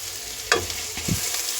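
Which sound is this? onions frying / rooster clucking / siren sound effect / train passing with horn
onions frying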